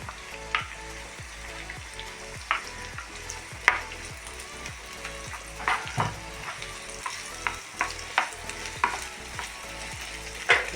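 Chopped onion fries in a spoonful of oil in a pan on the stove, a steady close sizzle broken by regular scraping stirs and small crackles throughout.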